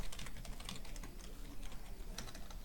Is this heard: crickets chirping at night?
no